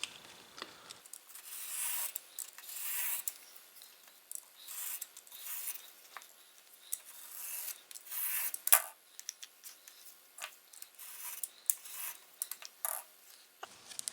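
Scissors snipping away excess Lee Valley high-friction adhesive sheet from a Shopsmith push block, a close run of irregular crisp cuts and rubbing scrapes heard alone without talk.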